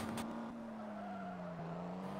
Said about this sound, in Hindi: गाड़ी को वापस मुड़ाइए गाड़ी को गोलाई में घुमाइए